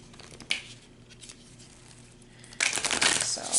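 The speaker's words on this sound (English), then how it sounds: "I'm going to shuffle these cards" Tarot cards being shuffled by hand, a few faint riffles early on, then a louder, close burst of rapid papery shuffling near the end.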